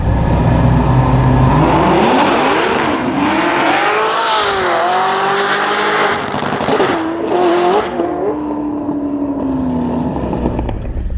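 Drag car with a 10-speed automatic launching at the track on 17-inch beadlock wheels, loud engine roaring and climbing in pitch through rapid gear shifts, tires spinning briefly before it pulls away and fades.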